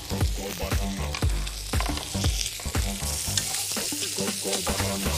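Salmon fries in a pan, a loud dense sizzle with crackling pops and occasional scrapes of stirring throughout, heard close with no speech.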